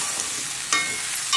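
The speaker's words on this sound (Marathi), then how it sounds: "आता काय करायचं, हे सगळं मिक्स करून घ्यायचं" Salt, red chilli powder and roasted peanut powder are stirred together in a pan for a bottle gourd and buttermilk curry, giving a brief close scraping stir over a soft sizzle.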